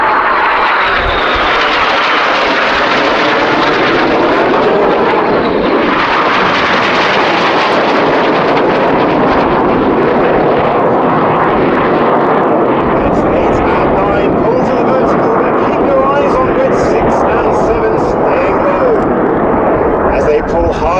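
Red Arrows jets flying the head-on Chippo Pass at the Kauhava Airshow: a loud, continuous roar of jet engines that holds steady with heavy wind buffeting, and no clear gaps.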